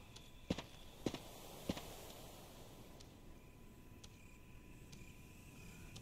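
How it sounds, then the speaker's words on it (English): Footsteps of something prowling in the Resident Evil remake video game: three faint, hollow thuds at a steady walking pace, then quieter taps fading into a hushed ambient hum. "I hear something walking around"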